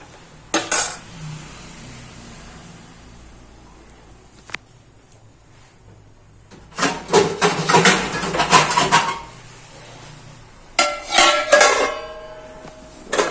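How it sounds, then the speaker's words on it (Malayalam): A spoon stirring mango curry in a cooking pot clatters against the metal in a quick scrape near the start, then two longer bursts of loud, close clinking and scraping, with quiet pauses between. "ഇപ്പം ഞാൻ ഇളക്കി നോക്കി"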